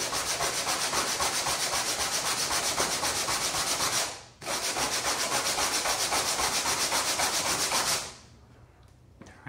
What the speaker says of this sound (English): put it on a flat surface with your sanding block and your 80 grit sandpaper